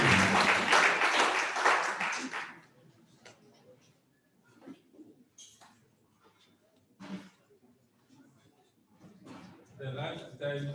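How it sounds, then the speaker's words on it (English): An audience at a university student tax symposium gives a round of applause: loud, dense clapping for about two seconds that quickly dies away, followed by scattered small noises and someone speaking. "Let us give him a round of applause."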